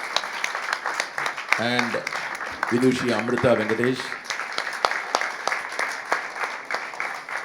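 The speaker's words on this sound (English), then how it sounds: "a big round of applause to Vidwan Prince Rama Varma" Audience clapping at a lecture-demonstration on enunciation, a steady patter of applause running throughout, with a speaking voice cutting in briefly over it partway through.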